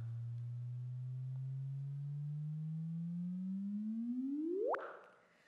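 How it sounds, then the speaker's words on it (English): A sonified gravitational-wave chirp from two merging black holes: a steady low tone slowly climbs in pitch, then sweeps sharply upward into a quick final burst before fading to quiet. "That is the sound of two neutron stars or black holes colliding."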